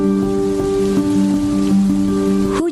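A rain sound effect: steady, loud falling-rain hiss layered over a sustained tonal drone, continuous throughout with no voices.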